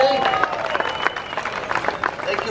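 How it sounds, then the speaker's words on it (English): An audience claps and cheers in a crowd, dense applause heard nearby alongside crowd chatter and noise. "how about a round of applause for Rob?"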